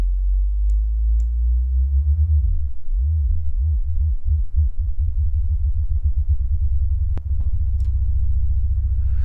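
A loud, low FM-synthesized tone in Ableton Live wobbling rapidly in pitch, the fast frequency modulation smearing into a steady buzzing throb.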